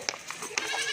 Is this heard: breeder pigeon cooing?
no